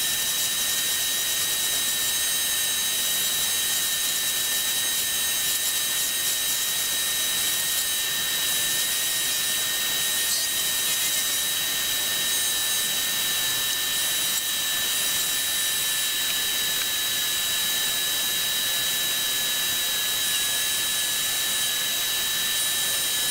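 A wood lathe spins a pen blank in a workshop, giving a steady, continuous high whine and hiss that runs unbroken for the whole stretch at moderate level, with no talking.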